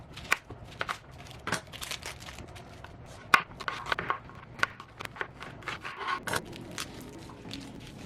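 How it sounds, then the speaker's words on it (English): Knife chopping an onion and mincing garlic cloves on a cutting board during vegan meal prep, a run of quick, irregular taps and scrapes at moderate volume, near and with no talking. "We're going to start by dicing the onion and mincing 4 garlic cloves."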